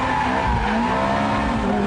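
A Ferrari F430 Spider drifts on a track with loud, sustained tire squeal and skidding over the engine's roar, a continuous close squeal lasting under two seconds with no talking.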